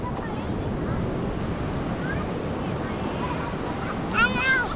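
Steady broadband surf washes continuously along a Thai beach with wind noise across the microphone, and a voice rises briefly near the end.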